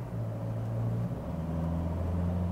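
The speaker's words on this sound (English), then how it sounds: "So now the revs are also holding a much higher than in normal mode." An LDV Maxus T60 4x4 pickup truck engine holds high revs with a steady droning hum from inside the cab, briefly dipping in pitch before settling again.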